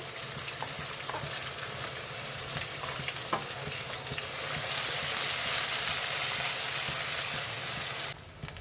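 Onion and coconut paste frying in a tempering of asafoetida, cumin and curry leaves for Saoji-style besan patodi, a dense continuous sizzle with stirring scrapes, close and steady, briefly dropping at the end.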